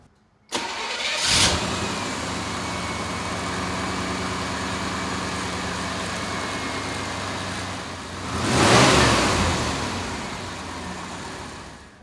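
A car with a TPI engine, just fitted with replacement fuel injectors, cranks and catches, then settles into a steady mid-pitched run nearby, with a brief swell of revs late on before easing back to idle.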